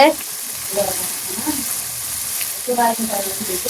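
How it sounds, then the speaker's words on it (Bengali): Duck meat sizzles steadily in a hot pan, a continuous hiss and crackle with occasional stirring, while someone talks over it in places. "এই যে দিকে মাংস দেওয়া হইতেছে"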